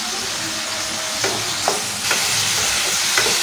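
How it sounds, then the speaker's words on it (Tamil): Tomatoes for sambar sautéing in a pan, a steady loud sizzle running throughout with a few sharp spoon scrapes and clicks spaced across it, no voices. "தக்காளியும் நல்லா வதக்கி எடுத்துக்கலாம்."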